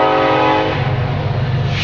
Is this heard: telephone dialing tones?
no